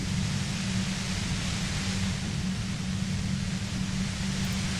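Steady hiss of white noise static from the Disco Elysium video game, loud and continuous with a low humming band beneath, heard alone.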